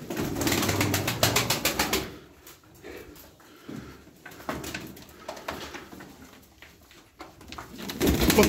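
Pigeons flap their wings in a rapid rattling burst up close, then quieter flutters and cooing follow, with another swell of wingbeats at the end.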